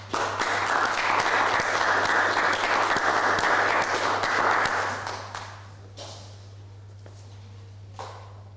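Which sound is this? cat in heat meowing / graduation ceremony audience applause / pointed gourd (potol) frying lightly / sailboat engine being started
graduation ceremony audience applause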